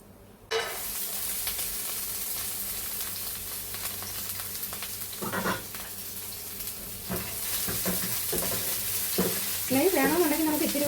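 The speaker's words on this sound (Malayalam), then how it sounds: "ഇതിലേക്ക് നമുക്ക് ഈ നട്ട്സ് എല്ലാം കൂടി ഇട്ട് കൊടുത്തിട്ട് വറുത്തെടുക്കാം" Mixed nuts roasting in ghee in a pan, a steady close sizzle with intermittent scraping and stirring strokes from a spoon, no talk.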